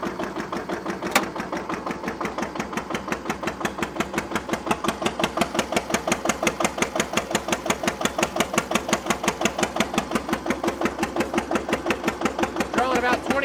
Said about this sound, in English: you'll hear the tone of the engine change